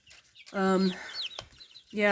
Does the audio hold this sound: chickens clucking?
yes